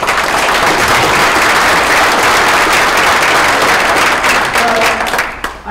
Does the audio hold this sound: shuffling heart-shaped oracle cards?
no